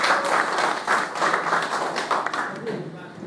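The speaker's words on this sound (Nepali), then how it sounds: "कडकडा तालीका साथ कृपया" An audience at a Deepawali cultural program applauds, with dense, sustained clapping filling the room and a voice talking over it.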